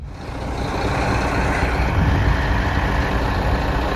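A semi truck stuck just off gravel roars with a loud, heavy diesel rumble that holds steady throughout, close and dense, with a faint high tone appearing partway through.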